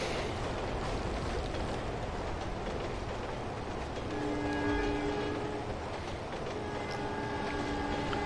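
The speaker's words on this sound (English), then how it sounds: "Good thing the train is on a bridge there." A train rumbles past in the racing video game The Crew 2. Its steady mechanical roar is joined partway through by sustained horn-like tones, with no talking over it.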